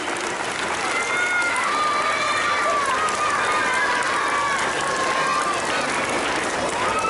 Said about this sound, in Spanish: yo les pido un aplauso para los 9 niños nuevamente